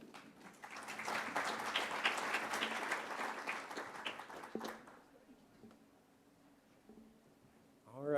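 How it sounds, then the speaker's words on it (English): A lecture audience applauds, a dense burst of clapping that swells and holds for about four seconds, then fades into quiet room tone before a voice comes in at the end. "I'd like everyone to give a round of applause for Dr."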